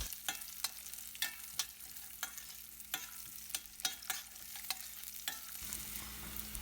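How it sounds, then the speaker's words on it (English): Peanuts frying in oil with chilies and curry leaves for poha upma, giving a steady soft sizzle broken by regular scraping stirs of a spoon about twice a second, close by and with no talking. "Just cook the peanuts for minimum 1 minute."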